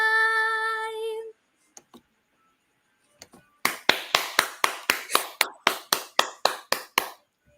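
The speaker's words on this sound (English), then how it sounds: "give Guess Nordeeka a round of applause, everybody. Clap, clap, clap" After a brief tone and a few scattered taps, a series of about fifteen sharp, evenly spaced claps rings out clearly, like one person clapping, during a live online class.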